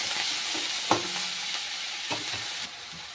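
Onion paste goes into cumin seeds tempering in hot oil, giving a steady close sizzle with a few sharp stirring clacks from a spoon against the pan.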